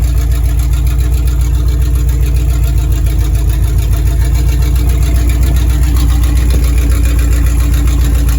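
A Chevy K5/K10 off-road project truck runs in first gear. Its engine gives a loud, steady, low rumble that holds close and unbroken the whole time.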